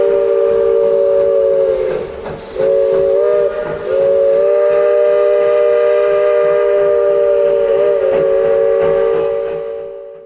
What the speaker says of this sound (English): take the train up to Silver Plume Station